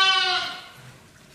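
A sheep gives one loud, close, wavering bleat at a livestock farm in Elazığ during lambing season, as lambs reunite with their ewes; the call fades quickly into quiet background.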